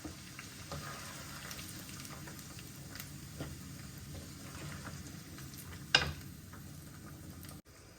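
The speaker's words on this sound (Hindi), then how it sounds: "ये देखिए, लहसुन फ्राई होना शुरू हो चुका है।" Soft, steady sizzling of garlic frying in a pan, with a brief clatter partway through.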